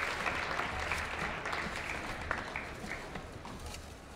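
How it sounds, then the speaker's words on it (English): Applause for a seventh-grade boys' basketball team at a high school meet-the-team night in a gym, a steady, fairly distant patter of many hands throughout. "let's give these boys a round of applause"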